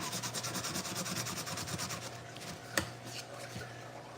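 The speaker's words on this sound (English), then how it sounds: "I'm going to do a little light sanding again in that area" Light hand sanding on a model reef rasps back and forth in quick, even strokes close by, followed by a single sharp tap and quieter rubbing.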